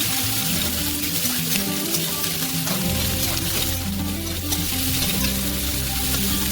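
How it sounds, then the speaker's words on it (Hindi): Chopped onions sautéing in a pan for a sweet-and-sour pumpkin curry, giving a steady, moderately loud sizzle and frying crackle with occasional stirring scrapes throughout, and no talking. "इसको हल्का हल्का ट्रांसलूसेंट होने तक आपको सॉटे करना है।"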